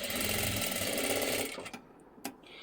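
A sewing machine stitches a tassel cord for a blouse in a steady, close, whirring run that stops after about a second and a half, followed by a couple of faint clicks and handling sounds.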